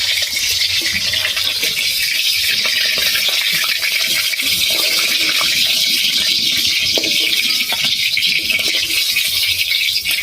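Hilsa fish pieces frying in hot oil for a Bengali eggplant and hilsa curry, a loud, dense, continuous sizzle and spatter heard up close, with no voices.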